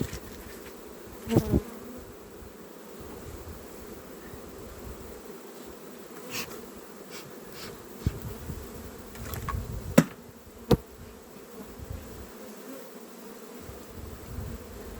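Honey bees buzz around nucleus hives in an April apiary, a steady close drone with occasional individual bees passing loudly near the microphone, plus a few faint knocks.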